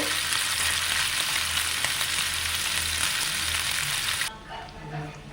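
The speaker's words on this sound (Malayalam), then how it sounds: "നമ്മൾ ചിക്കൻ വറുത്തിട്ടു" Chicken marinated with sesame, turmeric and salt deep-fries in hot oil. It gives a loud, dense, continuous sizzle up close, then drops suddenly to a quieter, softer crackle near the end.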